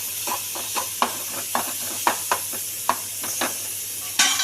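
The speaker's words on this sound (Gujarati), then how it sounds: "હિંગ નાખ્યા બાદ ટમેટા નાખી દઈએ. પછી એને થોડું હલાવી લઈએ." Tomatoes dropped into a hot pan after asafoetida, then stirred: a series of short scraping stir strokes over a steady low sizzle, with a louder clatter at the end.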